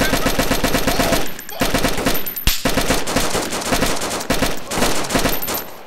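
Rapid bursts of automatic gunfire in the video game DayZ Standalone, loud and close, sustained with brief pauses between volleys.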